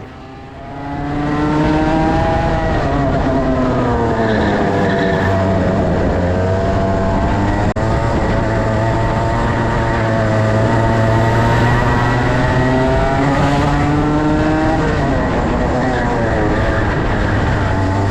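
On-board a race car during a sprint race on cold tyres, the engine drones loud and close, pitch rising and falling through gear changes and corners, continuous throughout.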